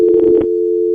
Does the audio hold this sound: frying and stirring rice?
no